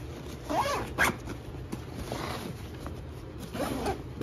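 The zipper on a 5.11 Tactical MOAB 10 sling bag is pulled in a few short, raspy strokes with small pauses between them, close and clear against a quiet background.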